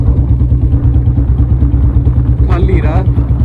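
A Royal Enfield Bullet motorcycle thumps along an empty village road below 40 in fifth gear, a loud steady low-pitched engine pulse close up, with someone speaking briefly over it.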